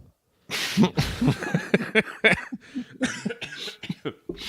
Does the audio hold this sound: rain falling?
no